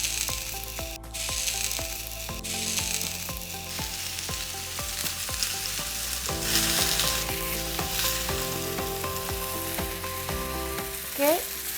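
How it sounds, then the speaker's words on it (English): Juicy pork chops sear on a smoking hot grill with a continuous crackling sizzle, close and steady, broken by a few clicks and clatters of handling throughout. "Now it's smoking hot. I'm gonna grill the meat."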